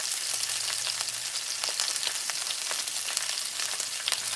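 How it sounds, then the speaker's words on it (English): Close, continuous sizzling of meatballs frying in a pan, a dense crackle with scattered pops and no voices. "Ooh, that sizzle is like ASMR."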